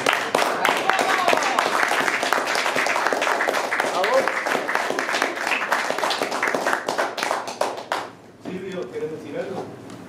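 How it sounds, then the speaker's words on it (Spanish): Applause and clapping from an audience at a cultural venue's encore event, dense and steady for most of the stretch, then thinning out as voices take over near the end. "aplauso a la gestión"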